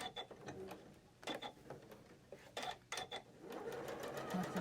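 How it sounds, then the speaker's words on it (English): A sewing machine stitches bias-cut fabric in short bursts of rapid mechanical clatter, stopping and starting several times, then running steadily near the end, close by and moderately loud. "going to sew it on this side"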